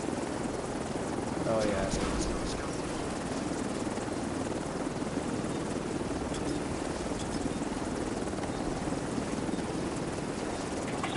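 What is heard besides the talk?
helicopter arriving for extraction in video game Division 2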